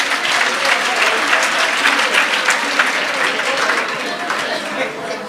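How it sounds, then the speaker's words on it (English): Applause from an audience at a primary school summit in Free State, a steady dense clapping that stays loud and even throughout, with a little crowd chatter mixed in. "Colleagues, give a round of applause."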